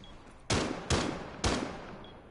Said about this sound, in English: I love the sound of Cav's pistol, dude.